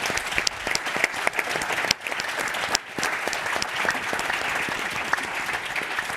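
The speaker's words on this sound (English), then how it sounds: "let's give another round of applause to our incredible panel" Sustained applause from an audience honoring a panel at a human rights event, dense steady clapping with a few brief dips, fairly loud and close throughout.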